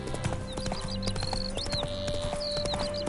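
In a video game, a horse's hooves clip-clop in a steady walking rhythm, close by, over a busy outdoor ambience with high whistling tones.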